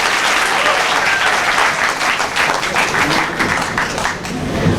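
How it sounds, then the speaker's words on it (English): An audience at a national integration camp inauguration in Delhi claps after a performance, a dense, loud, sustained wave of applause from a large crowd. "Please give a huge round of applause for her performance."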